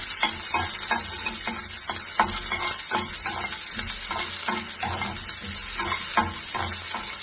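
Cumin and peanuts sizzle steadily in a hot pan for ivy gourd chutney, with regular scraping strokes of a spatula stirring through, close and fairly loud.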